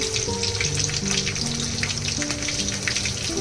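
Mustard seeds fry in hot oil for a sattvic vegetarian thali, giving a dense, continuous crackling sizzle with scattered tiny pops, steady and close throughout, with no voices.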